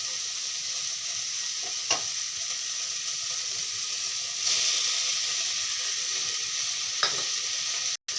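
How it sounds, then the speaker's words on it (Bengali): Fried small fish being stirred into cooked tomatoes in a hot pan give a steady close sizzle and hiss, broken by a few scraping knocks of the spoon and a louder surge of frying midway. "মাছগুলো দিয়ে ভালো থেকে মিশিয়ে নিচ্ছি"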